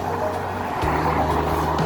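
A car passes close by a cyclist on a road, a steady loud engine and tyre rumble shifting in pitch as it goes by, with no talking.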